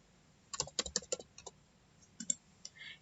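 Mouse and keyboard clicks at a computer during digital comic coloring in image-editing software, a quick run of sharp close clicks followed by a few scattered ones, with no talking.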